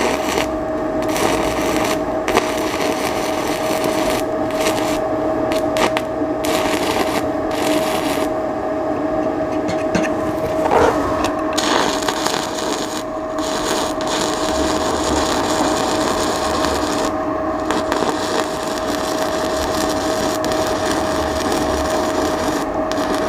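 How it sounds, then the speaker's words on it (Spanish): A mini inverter welding machine runs an electrode arc at around 130 to 150 amps, giving a loud, steady crackling buzz with an intermittent, sputtering texture throughout and no talking. "Vemos que el arco es muy intermitente y estamos a 130 amperios, acá a 150."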